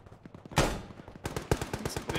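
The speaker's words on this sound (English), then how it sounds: "I'm just shooting out a window." Video game gunfire from a tactical military shooter: a loud burst, then a rapid string of shots fired out through a window, sharp and close, with faint background voices.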